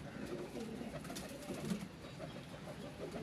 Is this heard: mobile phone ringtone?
no